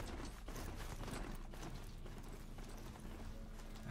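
Mechanical clip-clop of a machine horse mount's hooves in Horizon Zero Dawn, a steady gait with whirring, ratcheting gear noises layered over the footfalls, played alone without talk.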